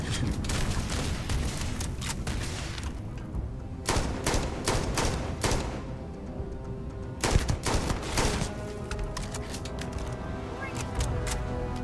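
Enemy gunfire in a Starfield firefight, with repeated bursts of automatic shots and thuds, some close and sharp, others rapid and overlapping, while a player talks over the action.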